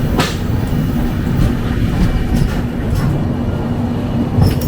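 Passenger train rolling steadily toward Sealdah, a continuous close rumble and rattle of carriages with a faint wheel whine, no voices.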